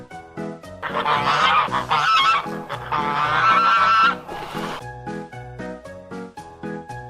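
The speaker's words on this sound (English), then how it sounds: "Goose." Farm goose honking loudly and close in a repeated run of harsh, nasal calls, with a few brief gaps and a quieter tail toward the end, no voices present.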